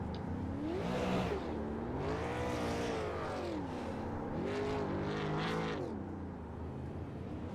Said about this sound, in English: as we watch Brett Suggs do burnouts